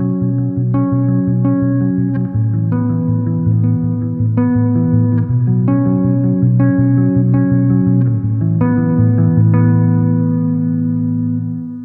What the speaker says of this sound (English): I've got the chorus there, and then I've got a plate reverb